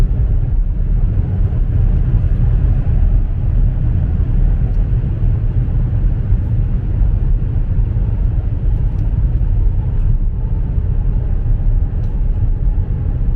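Tesla Model S P100D driving through a moderate curve, a steady low road and tire rumble inside the cabin, continuous and fairly loud without talk.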